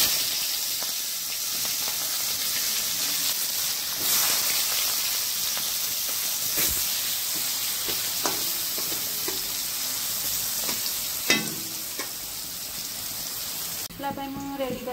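Onions fry in hot oil in a pan with a steady crackling sizzle and a few scraping stirs, while a person talks over the cooking.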